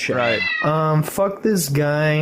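A pet cat named Ahil lets out several loud, drawn-out, insistent meows close by, with a man briefly muttering between them.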